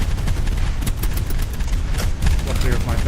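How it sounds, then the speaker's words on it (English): Heavy cannon fire aimed at ships in a naval video game, a dense run of booming, crackling shots in quick succession over a constant loud rumble. "Luckily with my big heavy cannon I can actually do damage to their big ships."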